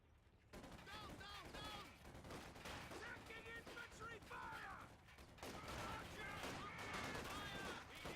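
Small arms fire from infantry in a real-time strategy game, with dense overlapping bursts of gunfire and crackling shots under a commentator's continuous talk.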